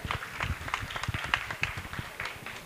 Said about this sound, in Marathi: पण एकदा जोरदार टाळ्या वाजवूयात आपण